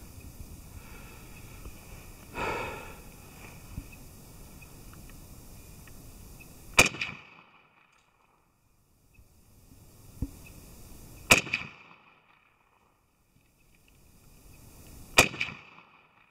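Test firing of Mesko 7.62x39 rifle cartridges at targets: three sharp, loud shots spaced about four seconds apart, each a single crack with a brief tail, and no talking.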